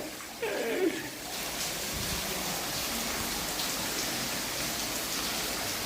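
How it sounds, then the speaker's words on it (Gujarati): Heavy, long-lasting downpour beats steadily on surfaces and pools of water, a dense, loud hiss that fills the whole clip, with a brief voice near the start. "બહુ જોરદાર વરસાદ છે ભાઈ"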